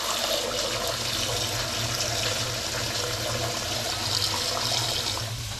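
Hot water runs steadily from a kitchen tap, a constant close hiss and splash with no pauses.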